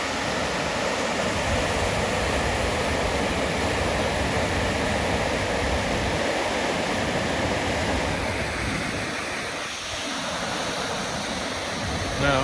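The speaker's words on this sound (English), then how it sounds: "That's some turbulent water right there." Turbulent stream water churning among rocks as it rushes into a sinkhole, a loud, continuous broadband roar that holds steady throughout with no pauses.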